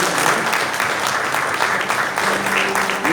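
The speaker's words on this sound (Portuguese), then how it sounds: "Vamos aplaudir a Jesus pela vida" A church congregation at a Baptist service claps steadily together, a dense, even wash of applause filling the room for a few seconds.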